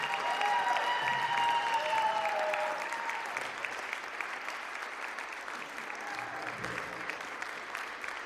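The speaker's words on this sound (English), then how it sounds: "a round of applause for the Purdue University Tower of Power Band" An audience applauds the Purdue University Tower of Power Band at an evening concert, a sustained wash of clapping with a brief tonal ring over it early on, easing slightly in level partway through and continuing steadily.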